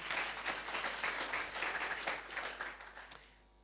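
Audience applause at an opening-evening event, a dense wash of many hands clapping that fades out near the end, with no talk over it.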